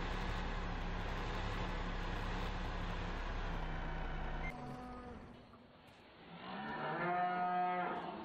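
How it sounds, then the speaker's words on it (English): Cattle mooing in the Farming Simulator 15 game on a Multifruit production map, the herd housed in animal yard buildings; a steady low drone gives way to several drawn-out, tonal moos that swell near the end. "we've got half our cattle in this building and half in the other"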